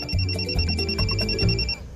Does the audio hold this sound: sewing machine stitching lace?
no